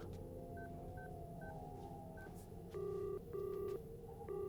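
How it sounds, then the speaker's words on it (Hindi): A touch-tone phone is dialed on speakerphone in a police station: a few short, light beeps, then longer paired tones sounding clearly over a steady low room hum, with no talking. "बढ़िया, फोन लगाओ, मैं उनसे बात करना चाहता हूँ।"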